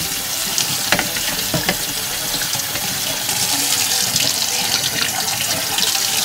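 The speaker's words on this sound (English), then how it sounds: "Turn off the burner. Run some hot water over it." Hot tap water runs steadily from a faucet onto cooked ground meat held in a metal strainer in a kitchen sink, a continuous close splashing hiss with a few brief clinks.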